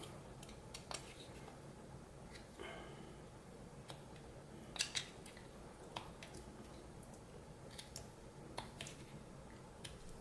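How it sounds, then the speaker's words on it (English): Knife whittling wood to carve a face, cutting up to a brow line; faint, scattered little snicks and scrapes come at irregular intervals, close up and quiet with no talk. "And then I basically go around and cut up to it."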